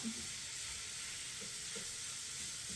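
Ground beef and onions sizzling in a pan, a constant soft hiss with faint stirring, close but quiet, no voices.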